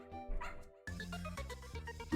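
A cartoonish dog barks and yips in a Nintendogs microgame within WarioWare: Smooth Moves, a few quick bright barks over game music.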